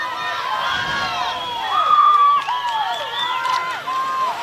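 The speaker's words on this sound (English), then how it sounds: "you can hear the Hilo's team cheering them on" Hilo team supporters cheer and shout at a BIIF canoe paddling regatta, a continuous crowd roar with rising whoops and calls, loudest in the middle and sustained throughout.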